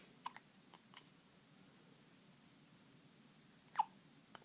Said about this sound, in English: You woke up with the hiccups this morning?